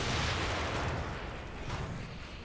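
A loud explosion in the survival horror game The Evil Within: a dense, broadband blast that fills the whole moment and rumbles away over a couple of seconds, with no talk.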